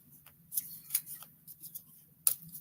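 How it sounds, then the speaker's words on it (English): Playing cards shuffled by hand during a card-reading session, heard as faint, scattered papery clicks and taps in irregular bursts over a low hum, with no talking. "Let's shuffle these again"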